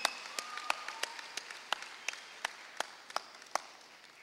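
Clapping and applause for a graduating class at a school graduation ceremony, a scattered crowd with sharp individual claps standing out, fairly distant and moderately quiet, with no cheering voices evident.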